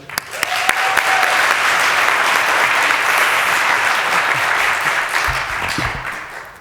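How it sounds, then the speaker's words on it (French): An audience at an entrepreneurship-week opening talk breaks into a steady, full round of applause lasting about six seconds, loud and even before thinning toward the end, with no speech over it. "On peut l'applaudir."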